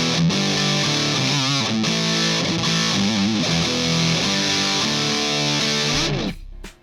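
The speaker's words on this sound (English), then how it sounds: "The Boss DS-1 Distortion orange pedal, famed." Electric guitar played through a Boss DS-1 orange distortion pedal into a Fender Blues Deluxe amp, loud saturated chords and bending notes ringing for several seconds before cutting off abruptly.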